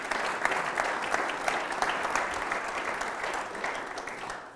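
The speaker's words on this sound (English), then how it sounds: "Give him another round of applause." An audience gives a speaker another round of applause at a public policy event, a full steady patter of many hands that holds evenly and then cuts off abruptly.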